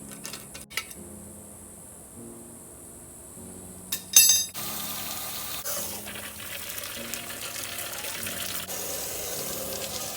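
Water from a hose runs into and splashes around an engine block being washed out, a steady hiss and spatter following a few sharp clanks and thuds, with brief knocking before the flow settles in.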